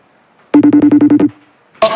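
A telephone rings with a rapid warbling trill of repeated pulses, loud and close, then stops; a brief burst of sound follows after a pause.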